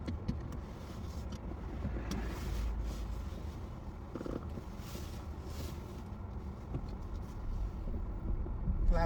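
A car drives along during a driving test, heard from inside as a steady, fairly quiet rumble of road and engine noise with occasional faint creaks.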